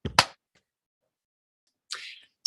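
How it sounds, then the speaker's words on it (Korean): Hands clap sharply and close by on a count at a studio reading broadcast. A quick pair of claps opens the clip, a short burst of sound follows after near silence, and then a lone tap at the end. "하나, 둘, 셋 하면 박수 치고"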